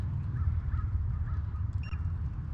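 A crow caws a few times at a distance outdoors in Edmonton, Alberta, faint calls rising over the steady low rumble of a rental scooter ride.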